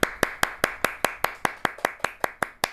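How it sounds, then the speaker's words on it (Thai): A small group claps for Apinan during a Thai online life-coaching session, giving about a dozen sharp, evenly spaced claps in a quick steady rhythm, close and clear. "เพื่อนๆทุกคนปรบมือให้คุณอภินันท์ได้ไหมคะ"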